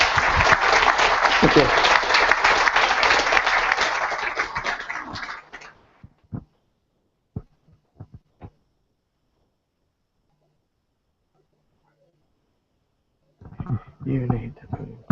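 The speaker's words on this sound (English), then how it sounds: "A round of applause for Laurence" Loud applause from a conference audience at a guild annual meeting fades out after about five seconds, then a few isolated claps, a near silence, and someone speaking briefly at the end.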